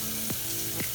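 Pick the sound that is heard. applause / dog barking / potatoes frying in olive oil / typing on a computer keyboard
potatoes frying in olive oil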